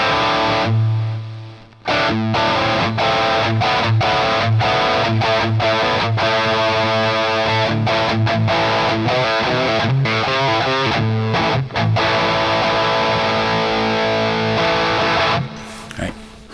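A distorted electric guitar, an Enya Inspire smart guitar, plays a lead line with delay and reverb, notes ringing and echoing over a steady low accompaniment.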